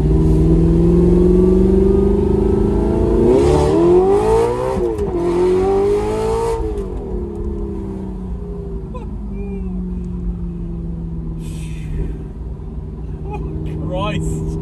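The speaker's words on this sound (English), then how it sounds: "Exhaust is all fitted up, so time to take it for a drive," An Audi R8 fitted with a new F1 exhaust accelerates hard, its engine rising in loud revving sweeps, then settling to a lower rumble as people talk over it.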